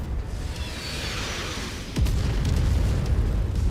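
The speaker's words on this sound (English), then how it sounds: "there's the enemy artillery" Enemy artillery in a MechWarrior battle lands with a rumbling boom partway through, over a constant dense background of battlefield noise, then leaves a heavy low rumble.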